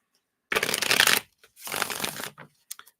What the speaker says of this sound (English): Let me give these a shuffle here.